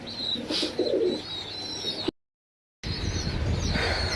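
Pigeons feeding their chicks coo softly nearby on a rainy day in low, murmuring calls, with a short silent gap midway.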